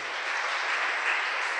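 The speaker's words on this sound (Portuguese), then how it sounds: "Aplaude a Jesus." Church congregation applauding, a dense, even roar of many hands clapping together, sustained without breaks and no voices standing out.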